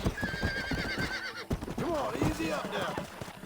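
A horse being lassoed in the mobile game Red Dead Redemption lets out a loud, wavering whinny, followed by snorts and hoofbeats, while someone speaks over it.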